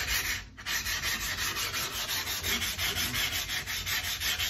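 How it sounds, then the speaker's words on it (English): A sharpening hone stone is rubbed flat against a 60 grit plate in steady, rhythmic back-and-forth strokes, a close, loud gritty scraping with no talking. "you're just shaping the stone to that plate"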